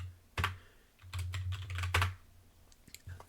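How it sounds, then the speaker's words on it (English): Password being typed on a computer keyboard during Linux terminal setup: quick bursts of close, crisp key clicks in a few short runs with brief pauses, alone without talk. "you type in your password full in, and yeah, it works"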